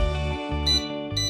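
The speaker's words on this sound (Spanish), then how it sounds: "Esta alarma se quitaría muy fácil porque simplemente bajando el consumo o desconectando el cargador se quitaría." Overcurrent alarm on an electronic load used to test a charger, sounding as loud, close electronic beeps in a quick repeating pattern of tonal pulses with no talk.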